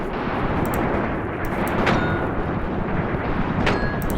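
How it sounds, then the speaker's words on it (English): Mortar rounds firing in the WW2 strategy game Graviteam Tactics: Mius Front, a dense continuous roar of distant gunfire and blasts with a few sharper reports standing out, no talking. "Some more mortar rounds out"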